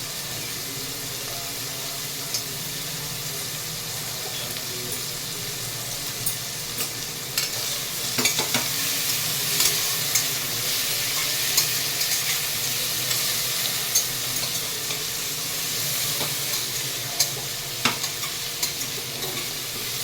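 Turmeric sizzles in hot oil in a pan as a spoon stirs it, a constant close fry with scattered scraping clicks and light taps throughout.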